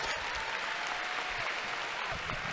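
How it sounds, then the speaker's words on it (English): An audience at a high school graduation ceremony applauds: dense, steady clapping from a large crowd that fills the whole stretch at moderate level. "Let's give her a round of applause."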